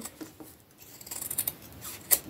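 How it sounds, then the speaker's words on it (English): Scissors snip through denim while upcycling a jumper into a dress, several crisp close cuts coming in an uneven rhythm, the loudest snap near the end, with faint handling noise between them. "you need a good pair of scissors for this"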